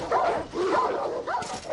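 Dogs bark and yip in quick overlapping bursts, fairly close and loud, with whiny tones between the barks and no talking over them.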